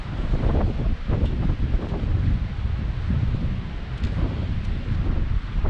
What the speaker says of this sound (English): Not as strong today, but still pretty windy.